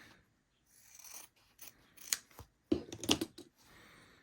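Scissors cut through quilting fabric between two seams of a strawberry quilt block, a few crisp snips and rustling fabric handling up close, with brief pauses and no talking.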